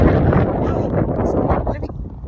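Cold outdoor wind gusting across the microphone on an afternoon in Calgary, a steady loud rush that buffets the mic and eases slightly toward the end.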